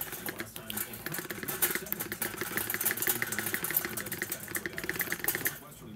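A freshly oiled, unseized old sewing machine mechanism spins with a rapid, steady mechanical chatter and whir, running continuously at moderate volume before slowing at the end.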